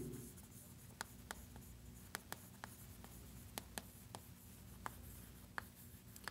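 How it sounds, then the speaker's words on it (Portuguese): Chalk or marker scratches across a classroom board in a math lecture, making quiet, scattered taps and strokes over steady room hiss. "Vou escrever isso aqui."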